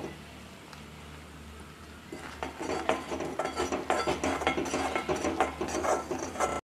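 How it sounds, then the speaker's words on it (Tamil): Kamarkattu candy mixture being stirred continuously in a pan, quiet at first, then a rhythmic run of scraping and clacking spoon strokes, close and without talk. "கை விடாமல் கிண்டிக்கிட்டே தான் இருக்கணும் இந்த பதம் வர வரைக்கும்"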